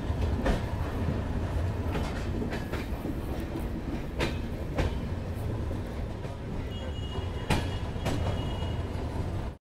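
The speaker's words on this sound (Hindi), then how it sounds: "1:46 पे अपनी ट्रेन निकल चुकी है उदयपुर सिटी रेलवे स्टेशन के प्लेटफॉर्म नंबर 3 से" Udaipur-Yog Nagari Rishikesh Express rolling out of Udaipur City station, a steady loud rumble of wheels on rails with periodic clacks and metallic squeaks throughout, no voices.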